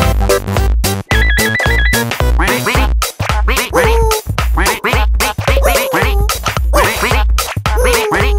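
A cartoon duck quacks repeatedly in a rapid, lively run, loud and close, mixed with bright musical chimes and playful sound effects from a children's animated show.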